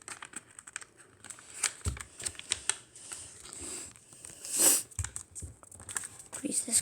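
Paper folded and creased by hand into an origami bowl, giving a run of soft close crinkles and sharp creasing taps and rustles, with a couple of louder crinkles.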